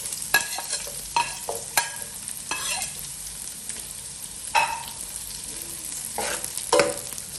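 Garlic, already browned, sizzles in hot oil as onions are added for a beef tripe goto, with a steady frying hiss broken by repeated scraping stirs of a utensil in the pan.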